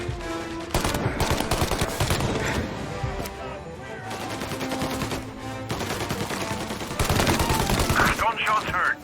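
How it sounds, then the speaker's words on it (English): Rapid gunfire in Mafia Definitive Edition, a dense mix of pistol shots and automatic bursts crackling continuously over game music and effects, with shouted voices in places. "Gunshots heard. Please respond."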